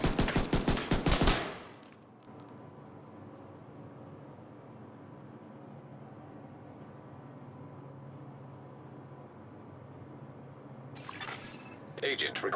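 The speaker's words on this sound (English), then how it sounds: "We're going to go for body shots with the pistol." Rapid, loud pistol shots from The Division 2 fired as body shots, a dense burst at the start and another near the end, with a quieter ambient stretch between them.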